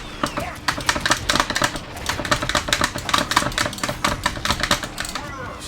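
Buttons and lever on a cheap arcade stick click rapidly in quick, uneven bursts during a Killer Instinct match, with game sounds in the background.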